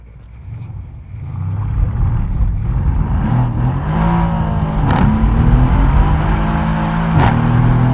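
A Mercedes-AMG V8 car accelerates hard, its engine roar rising in pitch through several gear changes, loud and close throughout.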